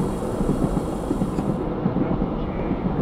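A diesel railcar braking in the Diesel Railcar Simulator game gives a steady, close rumble with a continuous low roar that holds evenly throughout.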